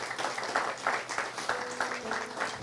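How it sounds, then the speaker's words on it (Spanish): Church congregation clapping for the Lord during a Spanish-language sermon, a moderate, steady patter of many hands with faint voices underneath. "Dele un aplauso al Señor si lo está entendiendo."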